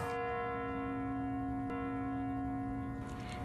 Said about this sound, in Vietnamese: Khi tiếng chuông đồng hồ trên điện Kremlin báo hiệu thời khắc đầu tiên của năm mới 2019